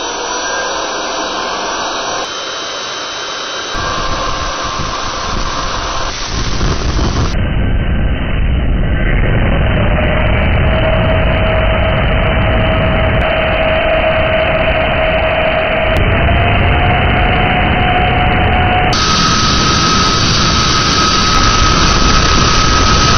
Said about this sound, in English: We're firing Sprite's Afterburner in 5, 4, 3, 2, 1.